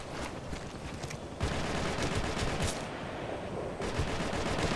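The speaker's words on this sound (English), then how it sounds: "Taking fire. I'm taking fire over here." Dense, continuous gunfire in a firefight in Operation Flashpoint: Red River, overlapping rifle and machine-gun bursts at close to middle distance, loud and unbroken with no talk.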